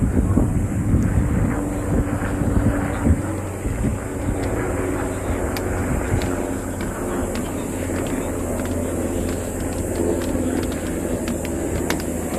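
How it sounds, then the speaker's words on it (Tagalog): A helicopter flies overhead, heard outdoors as a constant loud drone with wind buffeting the microphone, and the rumble holds steady the whole time without fading. "helicopter."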